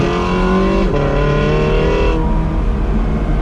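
A Porsche 918 Spyder supercar engine revs hard and climbs in pitch, shifting gear instantly partway through, loud and close.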